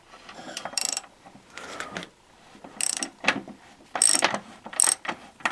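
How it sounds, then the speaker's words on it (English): A wrench tightening a nut on a Roma Nova minibike clutch gives a series of close, bright metallic ratcheting clicks and clanks in irregular bursts, with no talking. "as I tighten it, hang on, I grab the wrench."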